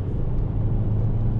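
A DS7 Crossback car accelerates up a short on-ramp, heard as a steady low engine and road rumble from inside the cabin.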